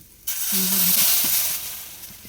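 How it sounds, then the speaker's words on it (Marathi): Hot milk poured into mango semolina sheera frying in a pan, bursting into a loud sudden sizzle that hisses steadily and then eases slightly, with no talking. "आता यामध्ये हे आपण जे गरम केलेलं दूध आहे हे टाकून घेणार आहे"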